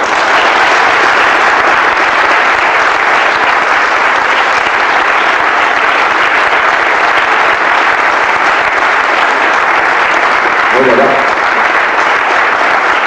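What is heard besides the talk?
audience applause for the staff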